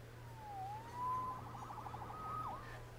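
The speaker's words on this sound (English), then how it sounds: "Saved by the siren." Police siren in the Spider-Man Remastered video game, a faint wailing tone that rises and falls twice over a low steady hum, distant and alone with no talk.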